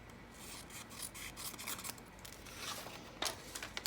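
Scissors fussy-cut paper animal ephemera, making soft rasping snips and rubbing paper sounds that stay quiet and close for several seconds, with no talking.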